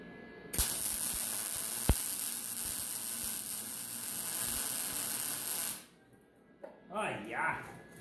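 Stitch welding on a metal gantry frame: a steady crackling, hissing arc burns for about five seconds, then stops, leaving quiet room noise and a brief clatter.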